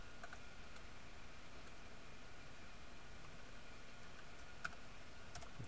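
Quiet, sparse keystrokes on a computer keyboard, with a soft click standing out near the end for the enter key, over a faint steady background hiss.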